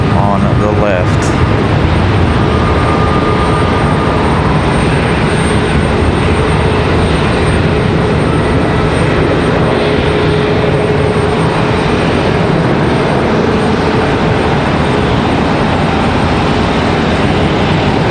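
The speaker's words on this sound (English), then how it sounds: "that 777 touch down right here in front of us" A Boeing 777 airliner touches down on a runway at Charlotte Douglas airport, a steady broad engine and rolling roar filling the scene throughout, with a person talking over it.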